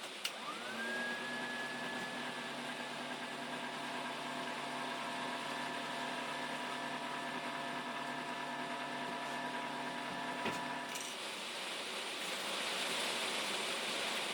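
A homemade tool-sharpening wheel at a wood-turning station runs with a steady whirring hum and a faint rising whine as it spins up, continuing evenly with a brief knock near the end.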